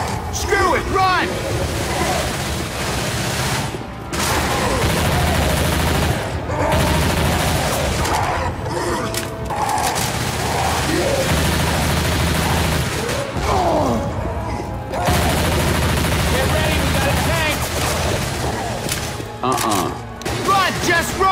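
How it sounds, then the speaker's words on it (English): Nonstop dense gunfire in Left 4 Dead 2 comes in heavy overlapping volleys with booms and a constant chaotic din, while voices shout throughout. "Don't stop shooting!"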